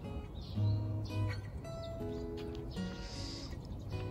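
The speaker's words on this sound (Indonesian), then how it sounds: "itu tadi ada suara burung-burung" Birds chirp and tweet at intervals on a morning in a Japanese residential neighborhood, with short scattered calls over a soft background and no talking.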